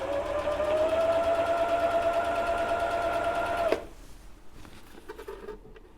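Old Husqvarna sewing machine stitching at a steady fast whir with a pitched motor hum for about four seconds, then stopping abruptly, leaving quiet room noise and faint clicks.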